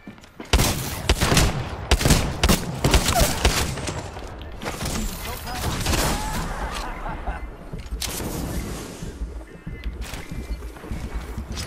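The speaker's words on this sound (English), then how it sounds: "Getting shot at!" Rapid bursts of video game gunfire crackle and pop in dense, uneven volleys through most of the stretch, loud and close, with a few sharper hits standing out and brief lulls between clusters.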